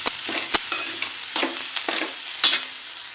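An ivy gourd mixture sizzles and fries in a pan while it is stirred, with close, loud scraping strokes at an irregular rhythm over a steady crackle.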